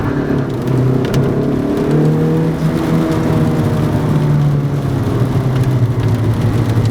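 A modified Toyota Echo, a light car, accelerating hard with a loud, steady engine roar and rising revs that build continuously for several seconds, close up from inside the cabin.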